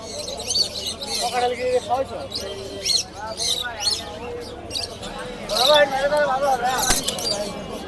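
Several small caged birds for sale chirp and tweet in quick, overlapping bursts close by, with people talking throughout.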